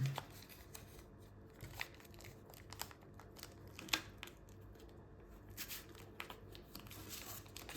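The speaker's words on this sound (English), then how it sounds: "And now turn it over and jet fold it." Paper being folded into an origami fighter jet produces soft, steady crinkling and rustling with small sharp creasing snaps, close and quiet, with no talking.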